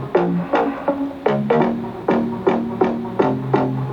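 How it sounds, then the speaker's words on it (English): A plucky Chromaphone synth lead weaves a counter-melody over a bass line in an electronic track, with around ten sharp notes that decay quickly in a loping rhythm, clear and close with no speech. "I just added this lead because it kind of counters the bass melody a bit"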